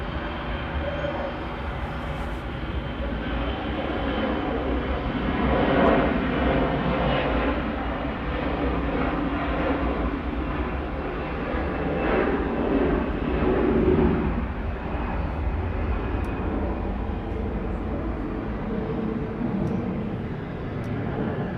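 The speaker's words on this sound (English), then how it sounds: "Here comes another. There's an A321." Airbus A321 airliner at Atlanta airport, a steady broadband jet roar holding for about twenty seconds, swelling slightly in the middle, heard at moderate distance with no talk.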